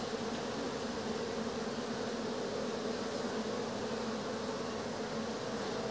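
Dense, continuous droning hum of many honeybees covering a hive frame full of eggs, a steady close buzz with no pauses and no voices.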